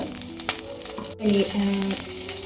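A tablespoon of butter melts in a hot pan before garlic and ginger go in for chicken pasta, sizzling loudly and close with a brief pause, then a fuller steady crackle and a few faint tonal hums beneath.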